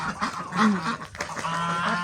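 A flock of domestic geese honking close by in icy winter conditions, overlapping nasal calls in quick, irregular bursts.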